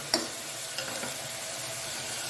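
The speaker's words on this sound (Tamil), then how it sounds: "இப்போ தக்காளி சேர்த்து நல்லா கிண்டி விடுங்க" Chopped tomatoes fry and sizzle in a pan as they are stirred while cooking a black chickpea kulambu, a steady close hiss with one or two light spoon taps and no talking.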